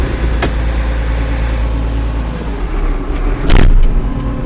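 International 1086 tractor engine running close by, a loud steady low diesel rumble with a couple of brief sharp clanks, no talking.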